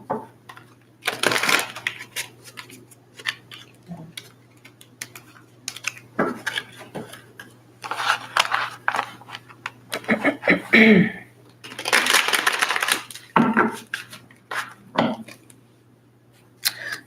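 Tarot cards are shuffled in several quick riffling bursts separated by pauses, with soft handling noises in between.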